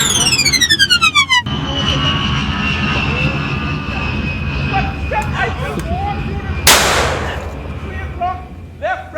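Gunshots ring out during a bird hunt in Andros: a sharp shot stands out over a steady aircraft engine drone, with people talking and birds calling in the background.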